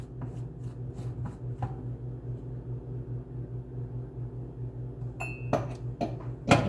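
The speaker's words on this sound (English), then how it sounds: "I'm gonna unscrew this cap right here." A plastic cap is twisted off a blender cup of berry banana spinach vanilla smoothie, giving two short bursts of small clicks and rattles near the mic over a steady low appliance hum.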